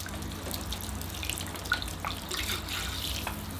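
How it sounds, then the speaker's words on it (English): Running water from a tap or hose rinsing soap off a Tigerbark Ficus bonsai tree and its soil, a steady close splash and trickle at low level under a faint hum, with no talking. "I'm ready to give it a thorough rinsing to get rid of all that soap and water"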